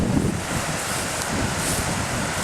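Spring floodwater six to eight inches deep rushes across a Ward County road, a steady broadband wash of flowing water mixed with wind buffeting the microphone, with no voices.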